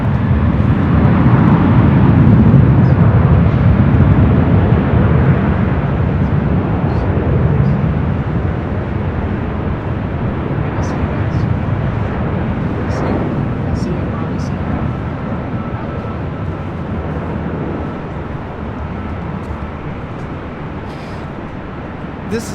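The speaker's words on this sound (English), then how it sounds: "This is Southwest Airlines 586 taking off to Denver, Colorado on a 737-700 in the Arizona 1 livery." A Southwest Airlines Boeing 737-700 in Arizona livery takes off from LAX, a loud broadband jet roar that slowly fades as it climbs away, with faint distant voices and radio chatter underneath.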